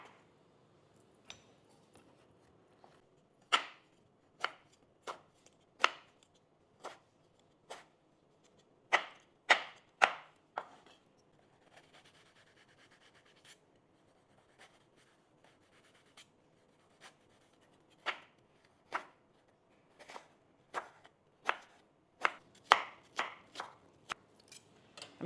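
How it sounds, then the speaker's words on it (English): A knife taps sharply against a cutting board while an apple is finely chopped, quiet isolated knocks in irregular bursts and short quick runs with pauses between. "you're going to want to finely chop one apple"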